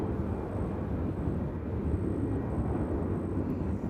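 Sun Country airliner at Nashville International Airport, a steady broadband engine roar from a jet some distance off, holding at an even level throughout with no talk over it.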